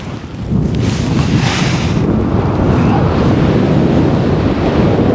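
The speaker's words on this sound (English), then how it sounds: "Whoa, that's well windy." Loud wind rushing across the microphone while paragliding in high wind, a steady gusty roar that swells after a brief quieter start.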